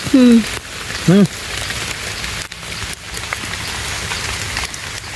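Rain begins falling outdoors, a steady hiss of drops pattering on surfaces, with a couple of short vocal sounds near the start.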